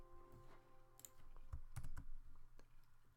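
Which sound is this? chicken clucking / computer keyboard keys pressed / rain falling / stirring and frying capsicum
computer keyboard keys pressed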